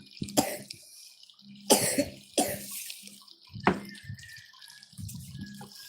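Several sharp coughs and throat-clearing bursts, some in quick pairs, close by, with faint running water in the background.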